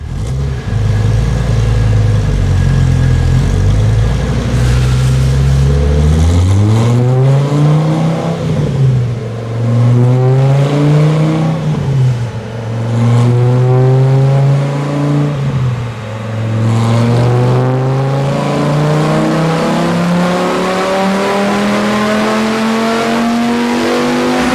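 Car engine fitted with a BBK Performance 1776 Power-Plus throttle body on a dyno, revving repeatedly in loud rising and falling sweeps, then holding a steady high drone, with no talk.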